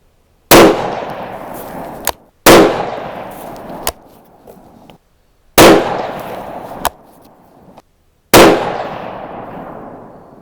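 Four sharp 6.5 Creedmoor rifle shots ring out at a shooting range, each loud crack followed by a long rolling echo, with a smaller pop about a second and a half after each of the first three, spaced roughly two seconds apart.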